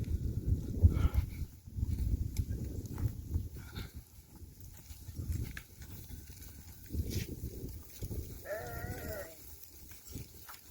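Sheep in a flock of about 300 head at a livestock sale, some ewes carrying lambs, give a few clear bleats near the end over steady low crowd and market rumble.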